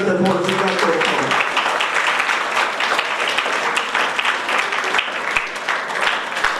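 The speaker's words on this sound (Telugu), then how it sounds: "అందరూ కూడా చప్పట్లతోటి వారికి అభినందనలు తెలుపవలసిందిగా కోరుతున్నాను" Applause for society members at a community event in Nizamabad, a dense burst of many hands clapping together that stays loud and steady throughout, with a voice briefly audible at the start.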